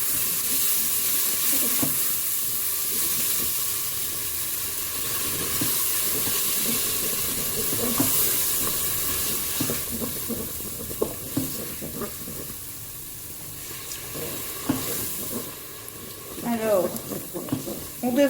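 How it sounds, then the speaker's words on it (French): Rabbit stew sizzles steadily in a Cookeo multicooker as red wine is added little by little, a continuous hiss with scraping stirs and occasional bubbling pops. "Puis, je vais mouiller avec le vin rouge. Petit à petit."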